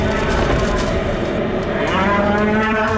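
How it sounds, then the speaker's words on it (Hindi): A roaring, bellowing creature that is part bull and part horse, rendered as a loud, sustained low cattle-like moo that continues steadily and close throughout. "जैसे ही उसने वीर की तरफ देखा तो चिंघाड़ते हुए वीर पर अटैक कर दिया"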